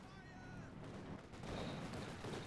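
Anti-tank gun and tank fire ring out in a Company of Heroes 2 battle, a faint, muffled run of shots and rumbling impacts heard through a busy, low-level battlefield mix.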